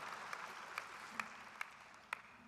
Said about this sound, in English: Is that David clapping?